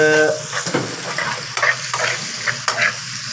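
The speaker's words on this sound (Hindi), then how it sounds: "ये लहसुन इसके अंदर डाल के इसको भी हल्का ब्राउन करना है" Garlic fries in a pan with a steady sizzle and occasional scraping stirs, close and fairly loud, no talking.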